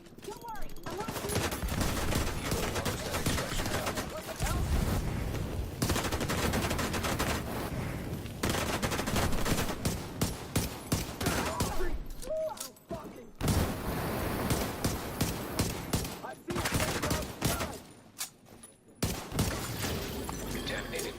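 Dense rapid gunfire from weapons in The Division 2 runs almost continuously, with sustained automatic bursts, booms and brief gaps. A voice talks over parts of the shooting.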